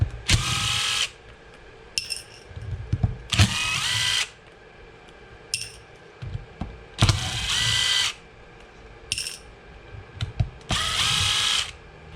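Cordless power driver backing small screws out of the front differential on an EREVO 2.0 RC truck, in repeated whirring bursts of about a second each with short ratchety pauses between, close and fairly loud.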